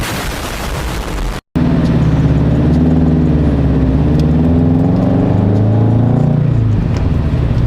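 A car engine runs loud and close while driving, with revs climbing and dropping through gear changes after a brief cut in the sound near the start.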